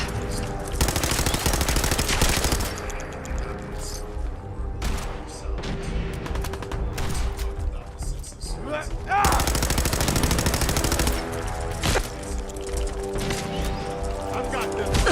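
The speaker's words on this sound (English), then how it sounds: "Opening fire." Rapid bursts of gunfire from the Fallout 4 video game, loud and dense with dramatic music, firing in sustained volleys with brief lulls, voices talking over the shooting.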